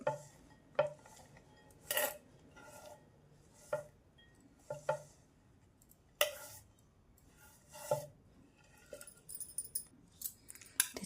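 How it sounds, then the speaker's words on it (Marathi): Chopped coriander is mixed with other ingredients in a bowl for kothimbir vadi, giving a series of separate clinks and scrapes of a spoon against the dish, close and spaced about a second apart, with no talk. "चला मग मिक्स करूया आता कोथंबीर"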